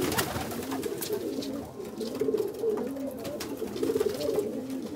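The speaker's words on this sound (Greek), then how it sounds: "Πολύ ωραία περιστέρια." Pigeons coo in a closed loft in Kozani, giving soft, low, rolling calls in overlapping repeated phrases close by, over a steady background murmur with no talking.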